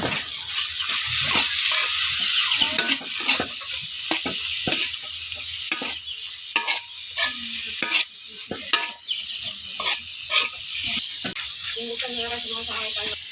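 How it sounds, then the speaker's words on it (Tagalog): Bamboo shoots being stirred with garlic in a frying pan, a steady loud sizzle with repeated scraping strokes of the utensil, close by, with someone talking now and then over the cooking. "ilalagay na po natin yung tambo po. Haluin na po natin siya."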